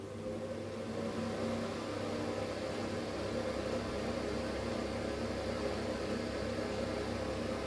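A kitchen oven preheating to 200 degrees gives off a steady, even mechanical hum and fan drone, unchanging and moderately loud for the whole stretch, with no talk over it.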